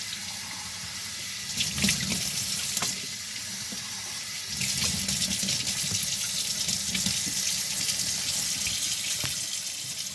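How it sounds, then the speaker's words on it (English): Tap water runs steadily into a sink while rabbit meat is rinsed under it, a close, continuous stream whose splashing shifts and swells as the meat is moved around. "I'm going to give this a rinse several times here"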